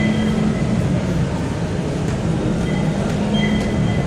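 Manila MRT metro train rolling along with a steady, loud rumble and rattle of the car, occasional squeals and clicks over the rails, heard from inside the crowded carriage.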